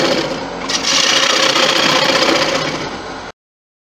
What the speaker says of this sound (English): Right then, let's get the hollowing this out.